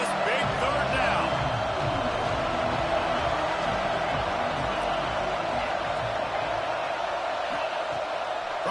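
Steady roar of a stadium crowd cheering on a big third down in an Oklahoma vs Nebraska college football video game, a dense, sustained wash of noise under continuous commentator talk.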